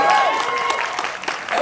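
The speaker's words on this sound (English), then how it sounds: "it's a smattering of applause" A panel audience at WonderCon 2017 gives a brief smattering of applause, scattered claps mixed with voices talking over it.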